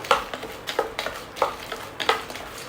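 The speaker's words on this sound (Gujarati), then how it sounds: "અને એને આપણે લાઇટલી રોસ્ટ કરી લેવાના છે ધીમા તાપે આપણે એને શેકી લેવાના છે" Makhana (fox nuts) lightly roasting in a pan over a low flame, with a dry rustle and scrape of stirring recurring in a steady rhythm about every half second, close and moderately quiet, no voices.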